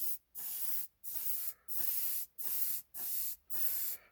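An airbrush sprays paint in steady bursts of hissing air, about seven pulses each lasting roughly half a second with brief silent gaps between, close and fairly quiet.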